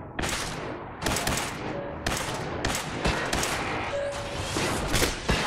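Rapid automatic gunfire in a Fallout 4 battle against robots comes in loud, repeated bursts about a second apart, each a dense crackling volley that fills the clip.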